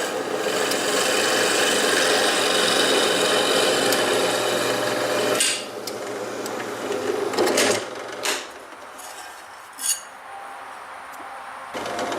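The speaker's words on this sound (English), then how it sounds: "Now we're going to go ahead and drill out the next hole." A power drill whirs continuously for about five seconds drilling a hole in a knife blade blank, then slows and stops, followed by a few short bursts and scraping sounds.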